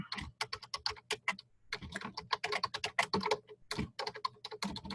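Someone types briskly on a computer keyboard, close-up, with rapid irregular bursts of clicking keys and short pauses between runs.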